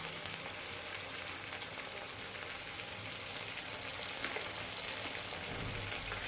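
Ginger garlic paste frying with onion, tomato and green chili in a pan, a steady soft sizzle with crackling throughout and no voices.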